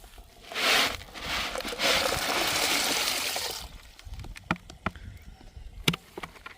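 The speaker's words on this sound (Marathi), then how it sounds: "त्या ठिकाणी ही मोरचूत आपल्याला पाण्यात टाकायचं आहे" About three kilograms of copper sulphate crystals are tipped from a bucket into farm pond water to kill algae, giving a rushing, gushing splash for several seconds followed by scattered small ticks and drips.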